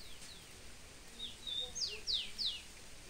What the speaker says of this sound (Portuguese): Ao som dos pássaros.